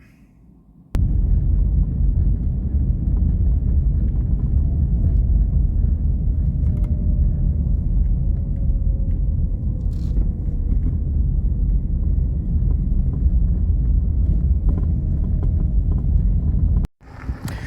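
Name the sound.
car driving and pulling into a car park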